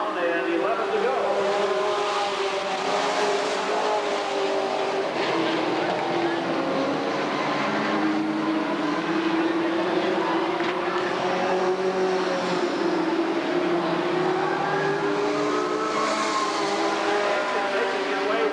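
Sportsman race cars roar continuously around Redwood Acres Raceway during a 1991 main event, a dense, steady engine drone with shifting pitches as cars pass, with an announcer talking over the racing.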